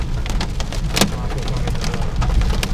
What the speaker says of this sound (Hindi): अभी भी ओलों के बड़े बड़े बूंद